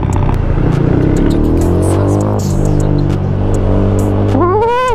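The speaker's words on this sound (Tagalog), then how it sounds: "Grabe ang traffic." Heavy road traffic on EDSA in Manila, a loud continuous drone of engines nearby with a motorcycle rising in revs at the end.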